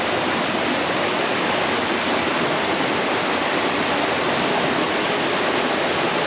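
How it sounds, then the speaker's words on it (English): Steady, dense rush of falling water from a creek waterfall in the Arkansas Grand Canyon, loud and unbroken throughout, with no other sounds. "I had just started the trail, and there's already a water feature."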